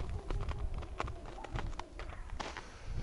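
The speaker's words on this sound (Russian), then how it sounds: "Это скворец." A starling calls near a handmade wooden birdhouse, sharp repeated chirps and clicks in quick irregular bursts over faint outdoor background noise.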